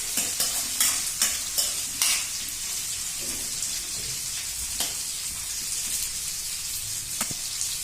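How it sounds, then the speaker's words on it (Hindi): Two chopped onions frying in a pan for a Dahi Fry recipe, a steady bright sizzle running throughout with a few sharp stir and scrape clicks near the start, close and fairly loud, no talking. "अब प्याज को जो सुनहरा होने तक हम"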